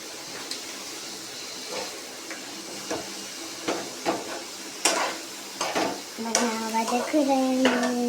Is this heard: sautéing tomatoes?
yes